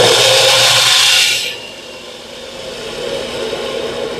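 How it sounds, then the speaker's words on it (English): A hand drill bores freehand through the body of a CO2 dragster to make an axle hole, a loud steady whirring buzz for about a second and a half before cutting off to a faint low hum. "we need to drill through this"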